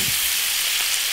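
Spicy crayfish being stir-fried with soy sauce in an iron wok gives a brief, dense hiss of loud sizzling with no voices.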